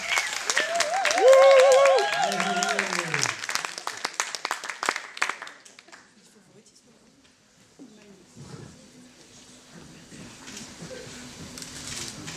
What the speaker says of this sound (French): Elle s'appelle Jade, elle va nous rejoindre maintenant sur scène, sous vos encouragements, vos applaudissements